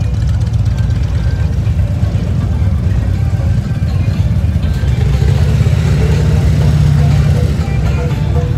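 Dense motorcycle engine rumble fills a packed downtown street at the Sturgis rally, a steady low drone of many bikes idling and revving nearby with crowd voices mixed in.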